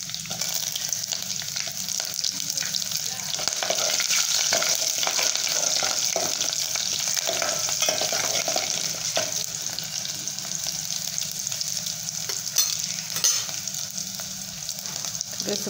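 Garlic, curry leaves and green chillies sizzle in hot oil over cumin and mustard seeds for a tempering, a steady close crackle and hiss that runs unbroken with small pops and no talk.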